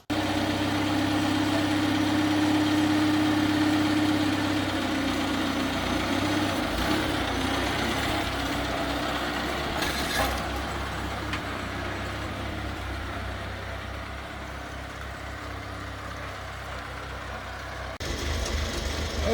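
An old Farmall tractor engine runs in a barn with a loud, steady rumbling idle, shifting slightly in tone after a few seconds and continuing evenly close by with no talk over it.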